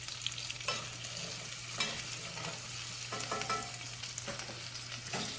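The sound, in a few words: stirring potatoes with bacon in a pan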